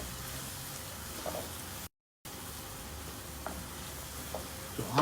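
Eggplant and other vegetables sauté in hot oil for baingan bharta, giving a steady, quiet sizzle with a few soft stirring clicks and a short dropout partway through.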